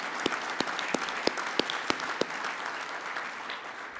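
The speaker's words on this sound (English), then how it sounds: "a tremendous applause to all the financial executives and CFOs for what you have done" An audience at an evening CFO of the Year awards event in Chicago breaks into sustained applause for financial executives, a dense wash of clapping with a few sharp, evenly spaced louder claps standing out close by.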